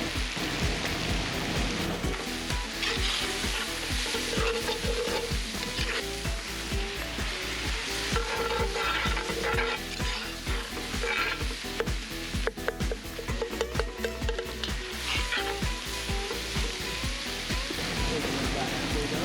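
Bacon fries in a pot for a one-pot barbecue bacon beans dish, giving a steady, dense sizzle and crackle throughout with frequent scraping stirs and small pops, close and fairly loud.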